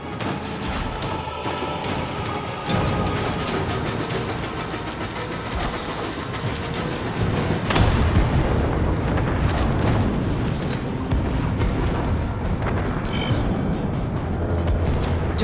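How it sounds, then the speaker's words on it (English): Heavy ship cannon in the Warframe galleon battle booms over a dense rumbling roar, with a jolt near the start and a bigger blast swelling midway, loud and continuous throughout. "Return to the cannon and pull the trigger."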